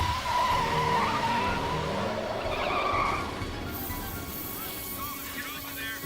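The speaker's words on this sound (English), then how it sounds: "He hit the brakes right in front of me." A car brakes hard and skids on a TV show, tires squealing loudly over engine noise that fades out midway, with dramatic sound effects following.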